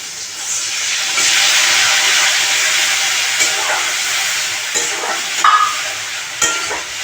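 Yardlong beans hitting a hot pan with water, giving a loud, broad hiss and sizzle that swells and then fades, with a few stirring scrapes and light clicks toward the end.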